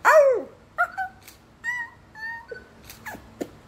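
A dog gives a string of short, close yips and whimpering cries, with a few brief squeaky barks spaced across a few seconds.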